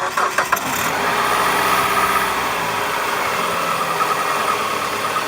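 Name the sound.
PT Cruiser engine starting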